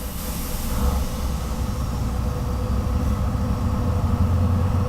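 A freight train in Train Simulator, running on the line toward Bristol Parkway, slows under braking with a steady loud low rumble of wheels and rolling stock, plus faint high rail hiss, all without voices.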